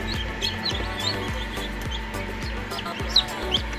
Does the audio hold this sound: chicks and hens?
yes